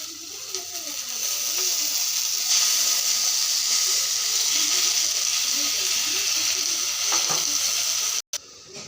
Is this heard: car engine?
no